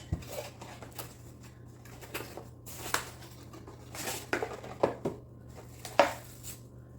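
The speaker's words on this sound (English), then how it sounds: "Let's open up this box." Cardboard packaging of a portable electric travel kettle being opened: scattered rustles, tearing and scraping with sharp clicks and taps, close and moderately loud over a steady low hum.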